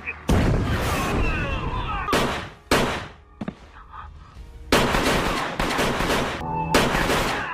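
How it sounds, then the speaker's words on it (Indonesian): Gunfire crackles and booms in a shootout scene from an action film, loud bursts of shots in several clusters separated by brief quieter gaps. "Di akhir pertarungan, Ken berhasil menghabisi Chun dengan aksi saling tembak"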